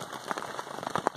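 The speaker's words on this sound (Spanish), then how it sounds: "Aparte está lloviendo" Rain falling in a mountain forest, pattering on nearby surfaces as a dense, close crackle of irregular drops, heard alone for a brief moment.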